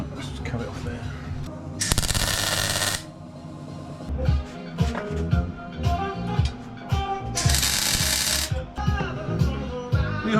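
Cutting metal tubing for a DIY Super73-style ebike frame, two loud bursts of harsh grinding hiss separated by clanks, taps and handling noises, close by with some talk mixed in.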